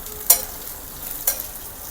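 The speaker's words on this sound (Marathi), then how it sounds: "तीन चार हिरव्या मिरच्या आणि कांदा जो आहे तो मी जास्त लालसर होऊ देत नाही" Onion and green chillies frying in a pan: low, steady sizzle with two sharp spatula scrapes about a second apart.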